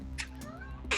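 A cat meows in a short, rising-and-falling call, close and fairly quiet, with a few soft bursts of noise around it and no talk.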